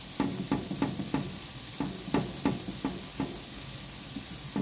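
Butter sizzles in a pan while being stirred, with a steady frying hiss under a regular series of soft scraping strokes, close and moderately loud, and no talk.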